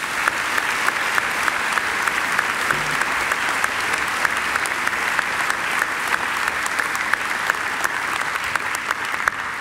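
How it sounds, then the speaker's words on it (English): A large audience at a university graduation ceremony applauds in a sustained, even wash of clapping, with sharp individual claps standing out and no talk over it. "I think Angela deserves another great round of applause"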